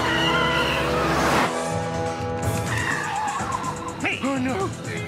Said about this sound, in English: It's one of those crummy car chase scenes where the car hits the fruit vendor's push cart.